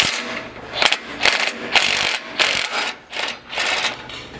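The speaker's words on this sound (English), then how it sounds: "With a 17 mil socket, you can remove this kind of top outside bolt" A ratchet with a 17 mm socket loosening a bolt on a Colorado Z71 truck, a close, steady series of quick clicking strokes in repeated back-and-forth bursts, loud and alone.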